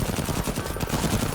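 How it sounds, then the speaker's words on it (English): Autocannon walker firing in the tactical game MENACE, a dense, loud stream of rapid heavy gunfire with continuous overlapping shots and no pause. "That's an autocannon walker, but that's a beautiful shot at a weapon team"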